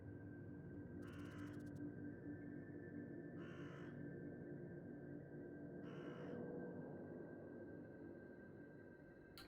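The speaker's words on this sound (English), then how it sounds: "a flock of wood gulls flies up into the air nearby" Wood gulls in the video game Sorcery! give three harsh, croaking caw-like calls, evenly spaced a few seconds apart over a faint, steady background hum.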